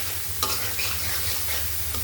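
Spiced masala of turmeric, chili, cumin, coriander, ginger-garlic and salt frying in a pan with grated coconut being stirred in, a steady close sizzle with a brief scrape of the spoon.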